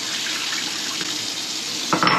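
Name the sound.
rinsing jalapeno peppers under running water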